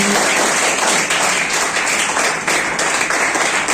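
Loud, vigorous applause at a Teacher's Day school event, many hands clapping in a dense continuous roar close to the listener, with brief surges but no pause.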